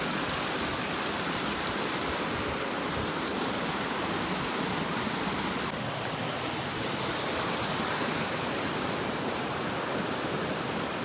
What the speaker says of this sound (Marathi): हम अभी जो वाटरफॉल है हमारे गांव के पीछे का, उसके एकदम नज़दीक आ चुके हैं।